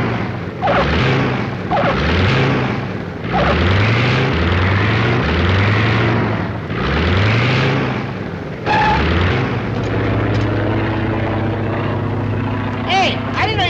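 Propeller plane engine droning in a comedy film, rising and falling in repeated surges, loud and close, with music and voices over it.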